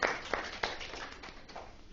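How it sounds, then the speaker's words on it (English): Brief clapping for a quiz group in a classroom, a few sharp claps with a thin spread of hand noise, close and moderately loud, no voice over it. "Clap for them."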